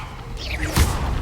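Levioso spell cast in Hogwarts Legacy: a short rising magical whoosh followed by a dull thump, loud and close over a busy game-sound bed.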